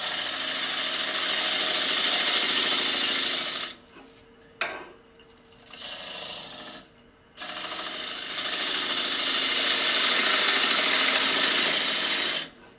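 Electric lathe spinning a wooden bowl while a tool hollows the inside, a loud continuous hissing scrape that breaks off briefly twice in the middle before resuming, close and without talk.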